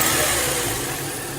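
A 2003 Chevrolet Cavalier's Ecotec 2.2 engine with an automatic transmission runs steadily, heard up close as a dense, even mechanical drone with no talking over it.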